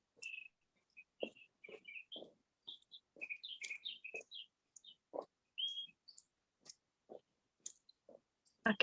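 Outdoor bird song of bright chirps and short trills repeating in scattered phrases, with soft clicks and low thumps between them in otherwise quiet surroundings.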